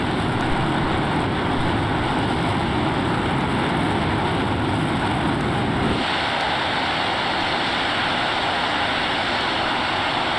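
Small propeller airplane in flight over the Schuylkill River after leaving Reading, gear and flaps up, its engine a steady loud drone that drops to a lower, quieter level partway through.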